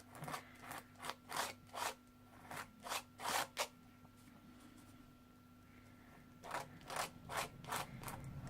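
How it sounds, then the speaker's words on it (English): A spatula scrapes paste across paper in rhythmic bursts of rough rasping strokes for a dragon paperclip holder craft, pausing midway and then resuming, close and fairly quiet with a faint steady hum underneath. "And you want to scrape across the top, and you get lots left."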